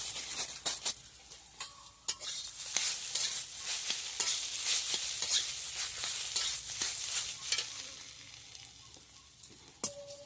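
A pot of taro curry sizzles and fries while roasted ground cumin goes in, with steady close stirring and occasional scrapes and clinks of a utensil against the pan.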